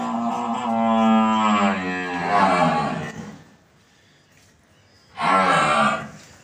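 A cow being treated for a prolapse with a torn vulva lets out two loud, drawn-out moos nearby, the first long and wavering, the second shorter after a quiet pause.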